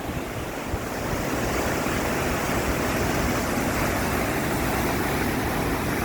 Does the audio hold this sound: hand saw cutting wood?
no